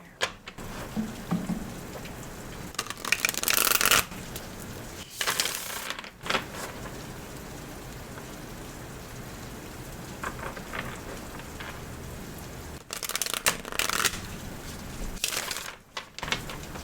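Tarot cards are shuffled close up in an ASMR setting, producing bursts of crisp riffling and flapping with quieter pauses between, and no talking.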